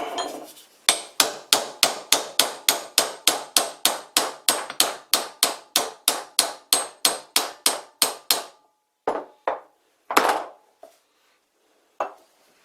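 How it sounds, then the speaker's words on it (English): Steel hammer strikes a blunt cold chisel against a metal lathe slide: about twenty-five sharp, ringing metallic blows in a fast steady rhythm, close and loud, then a few slower, spaced hits before it stops. "A blunt cold chisel."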